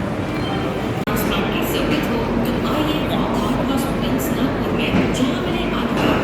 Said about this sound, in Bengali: ট্রেনটা বেশ ভালোই যাচ্ছে এবারে